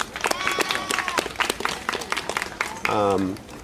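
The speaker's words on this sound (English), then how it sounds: "Let's give him a round of applause." Scattered applause from an outdoor crowd at a trail reopening, a patchy spread of claps running under talking voices throughout.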